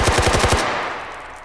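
A round of incendiary FMJ ammunition cooking off in the VR shooting game H3VR: a rapid burst of about six loud gunshot cracks in quick succession, then a fading tail, with no talking.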